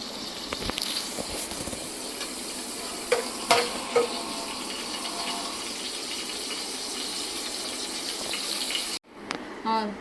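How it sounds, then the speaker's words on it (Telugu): Whole spices sizzling and crackling in hot oil in a pan for vegetable biryani, a steady close frying hiss with occasional stirring clinks. "ఆయిల్ కొంచెం వేడైన తర్వాత ఈ మసాలా దినుసులు వేసుకోవాలండి"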